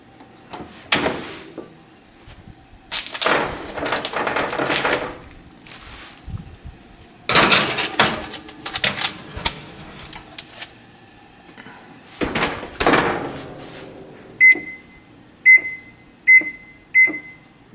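An oven door is handled in a home kitchen as a puff pastry four-berry pizza goes in to bake: several loud clunks and thumps of the door and trays, followed by a short series of electronic beeps, with no talk.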